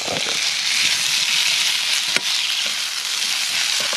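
Food fries in a pan in a rural village kitchen in Ilam, Nepal, stirred constantly: a bright, close sizzle with scraping stir strokes and one sharp knock midway, no talking.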